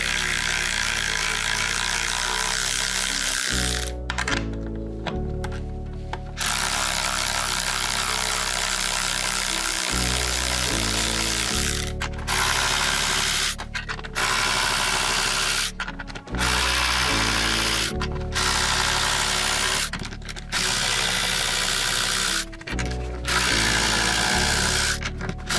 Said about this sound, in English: So let's see just how quickly we can get these 12 nuts off of these 12 bolts.